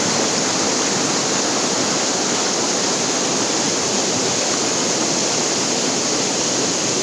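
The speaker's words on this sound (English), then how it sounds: "below me is a huge crevice in which the glacier water is falling down" Glacier meltwater pours down into a huge crevasse high in the Himachal mountains, a loud, constant roaring rush of falling water with no let-up.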